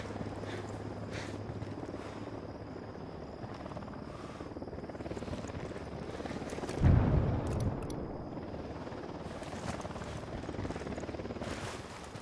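A helicopter in the video game Ghost Recon Wildlands gives a steady rotor drone that holds throughout, with a brief louder thud partway through and no talk over it.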